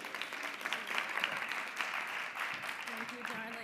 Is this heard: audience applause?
yes